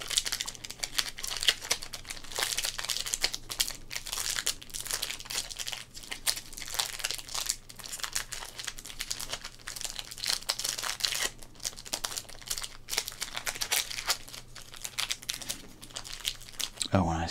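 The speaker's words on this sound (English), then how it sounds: "when I say crinkle" Sports card packs crinkle and crumple close up in steady rustling bursts for the whole stretch, with someone talking quietly at times over the plastic handling.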